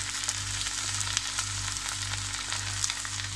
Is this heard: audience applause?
no